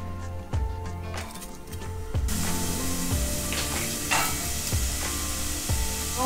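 Ground meat, a large onion and olive oil sizzle in a pan, a steady frying hiss that swells louder after about two seconds, with occasional utensil taps and soft music underneath.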